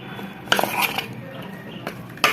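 A spoon mixes sweet corn with rice flour in a bowl, producing a few sharp metallic clinks and taps against the bowl at irregular intervals, with little else heard.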